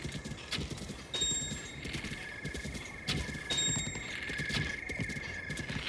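A horse gallops in Zelda: Breath of the Wild, its hooves drumming in a steady, rapid clip-clop, close and continuous, with a couple of bright chime-like game tones ringing over the running.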